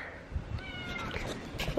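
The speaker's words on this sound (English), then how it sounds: "That's my cat." A house cat meows softly nearby, a short drawn-out cry with a faint rising-falling tone, then a brief second call, quiet against light room noise.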